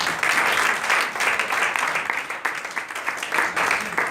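Church congregation applauding during a French-language sermon, a steady wash of clapping from many hands with a few louder bursts, sustained for several seconds with no clear voice on top.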